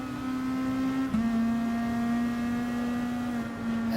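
Race car engines hum at a steady, sustained pitch during a rolling start at Red Bull Ring in Gran Turismo Sport, with a brief dip and shift in tone partway through before holding even again.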